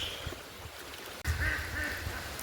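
Geese honking outdoors beside a village pond near a wooden footbridge in rural Bangladesh, a few nasal calls in the second half, moderately close, with faint ambient noise.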